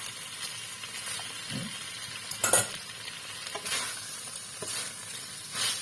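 Fried eggplant and tofu being stirred in a pan with melted sugar, a soft continuous sizzle broken by a few sharper scraping stirs of the spatula, close and fairly quiet.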